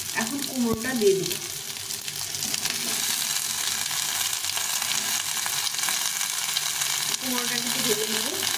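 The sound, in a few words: pumpkin frying in pan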